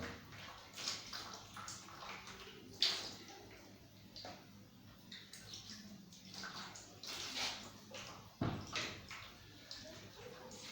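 Water running while a filter is rinsed clean with pure water, a steady splashing flow close by with occasional clinks and knocks, fairly quiet throughout.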